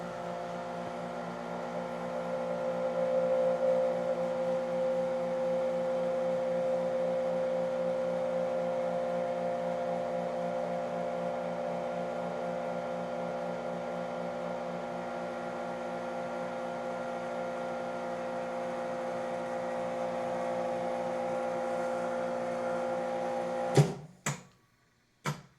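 An Introvac vacuum packaging machine sealing packs of beef: a steady, loud pump hum with a droning tone runs for over twenty seconds, then cuts off into a few sharp clicks and clunks as the cycle ends.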